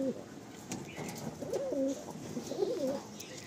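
A male Madrasi pigeon coos close by in soft, throaty rolling phrases, repeating several times over a faint background hum.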